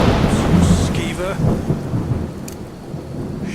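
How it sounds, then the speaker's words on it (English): Heavy rain hisses steadily while thunder rumbles low in a Skyrim game world, with brief character voice fragments over the storm. "Looks like rain."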